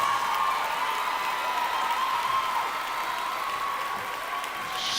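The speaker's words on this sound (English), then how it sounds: "give the principal an arousing round of applause." A crowd applauds the principal at a high school commencement, with dense, steady clapping that fills the space throughout and slowly fades toward the end.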